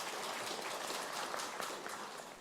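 Faint, distant applause from an audience welcoming a foundation president to the stage, a steady patter of many hands that tapers slightly at the end.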